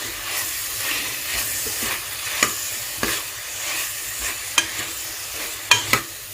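A bunch of fenugreek leaves and two tomatoes fry in a pan, a soft continuous sizzle punctuated by several sharp spatula clacks against the pan, heard up close without speech.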